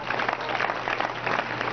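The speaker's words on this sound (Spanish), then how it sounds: "Den aplauso a tu esposa." Audience applause at a prison Mother's Day celebration, a steady, moderately faint patter of many hands clapping, fairly even throughout the short burst.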